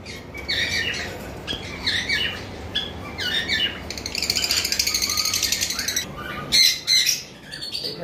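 Lovebirds, including a blue-wing opaline, calling in a loud close flurry of repeated shrill squawks and chirps that keep overlapping throughout, with short pauses and a burst of sharp calls near the end.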